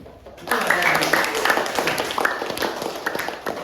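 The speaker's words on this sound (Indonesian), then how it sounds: "tepuk tangan dulu" A classroom breaks into applause, a dense wash of clapping that swells quickly and carries on steadily, with a voice or two mixed in.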